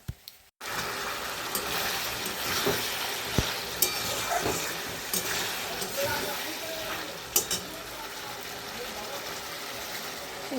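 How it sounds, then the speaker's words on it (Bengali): Fried fish and pointed gourd tossed into a hot pan for a curry, a continuous sizzle with scraping stirs after a sharp start, steady and close with no talk. "এই যে মাছ আর পটল ভেজে রেখেছি, দিয়ে দিলাম, দিয়ে একবারে কষিয়ে"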